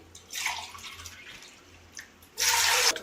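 Water splashes into a bowl in two pours for ragi java: a softer, longer stream first, then a brief, louder, fuller rush near the end, both close by with no talking.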